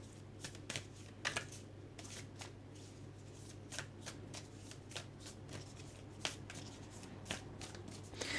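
Tarot cards being shuffled by hand at close range, quiet soft riffles and regular crisp card flicks repeating over a low steady hum.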